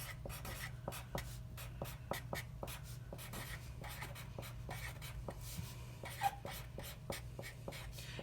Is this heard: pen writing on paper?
yes